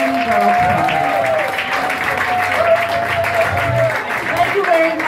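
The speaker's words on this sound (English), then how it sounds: "Let's have a welcoming round of applause for Honorable Gail Brewer, the Harlem Borough President." Applause welcomes Harlem Borough President Gail Brewer at a dinner for a Chinese art show: steady, lively clapping from a crowd that fills the whole stretch while a voice talks over it.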